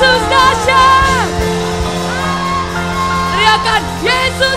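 A church congregation shouts and cries out together in a loud, layered wall of voices, with sharp rising yells breaking out over a sustained crowd roar.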